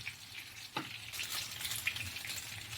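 Adobong kuwabotan seafood sizzles steadily in a pan with chili powder and paprika while being stirred, a scraping stir cutting through the continuous frying hiss.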